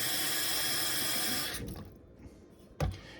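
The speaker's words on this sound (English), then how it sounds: "put it in with some warm water" Warm water pours steadily from a tap for about a second and a half, then cuts off, leaving faint dripping and a brief clunk near the end, while a fountain pen is being cleaned.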